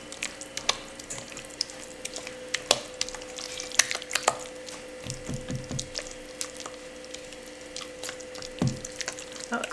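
Wet granola ingredients with coconut oil are stirred in a bowl, giving soft, irregular scraping and light clicks of the utensil at a low, close level.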